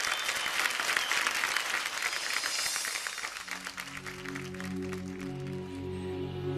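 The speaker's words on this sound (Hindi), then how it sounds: "दानिश के लिए एक बार जोरदार तालियां हो जाए।" A TV singing-competition studio audience applauds a singer with a dense, lively burst of clapping that thins out partway through, as a soft sustained musical tone rises underneath and carries on to the end.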